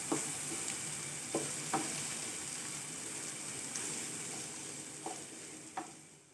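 About three eggs fry in a pan, a steady close hiss of sizzling oil with a few soft pops and ticks now and then, quiet and with no talking.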